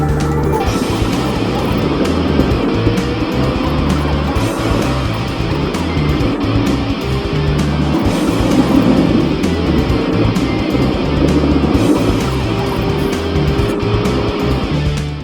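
Car driving briskly along a sharply winding mountain road in Yeongdong, Chungcheongbuk-do, its engine droning steadily and loudly with road and tire noise throughout, no talk.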